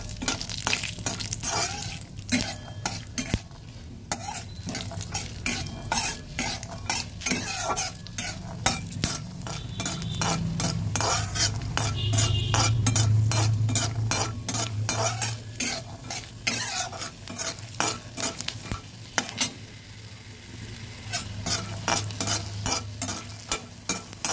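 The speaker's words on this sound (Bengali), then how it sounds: "হালকা আছে বাদামগুলো ভেজে নেব।" A handful of peanuts is dry-roasted without oil in a pan, with continuous, close scraping and rattling as they are stirred, plus a soft, steady sizzle underneath.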